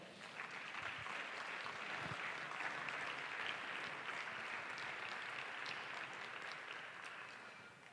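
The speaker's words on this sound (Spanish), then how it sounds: "Un aplauso al Señor." A church congregation claps continuously for several seconds, a dense, even wash of applause that holds steady and begins to fade near the end, heard from some distance in a large room.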